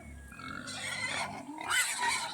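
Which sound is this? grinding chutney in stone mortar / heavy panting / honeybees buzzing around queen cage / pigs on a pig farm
pigs on a pig farm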